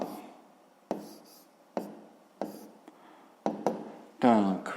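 Pen strokes on paper as fractions are written by hand for a sixth-grade math exercise, a series of short scratchy bursts separated by pauses, ending in a longer squeaky scrawl.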